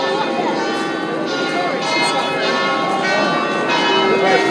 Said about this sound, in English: Hear the bells.